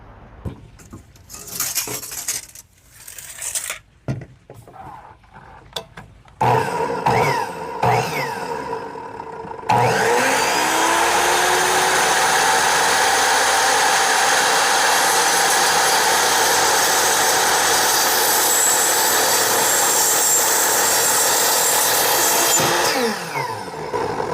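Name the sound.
saw with a 100-tooth blade cutting aluminum extrusion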